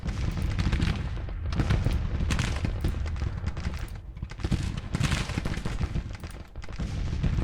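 Dense, continuous battle din of rifle volleys and artillery fire from a Civil War strategy game, a steady loud roar of overlapping shots with surging bursts throughout.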